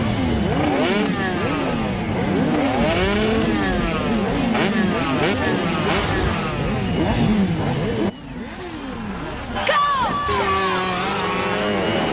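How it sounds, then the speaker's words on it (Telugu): A motorcycle engine revs loudly and repeatedly, its pitch sweeping up and down, as the rider lifts the bike onto one wheel during an action comedy film scene. Crowd voices may run faintly beneath the continuous engine noise. "వీడవడ్రా బైక్ ఎత్తుతున్నాడు?"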